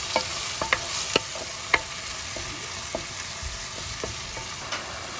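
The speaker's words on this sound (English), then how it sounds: "Chopped tomatoes to go in now." Chopped tomatoes being stirred and fried in a pan while cooking misal, with a steady low sizzle and scattered sharp clicks of a spoon scraping the pan, alone without talk.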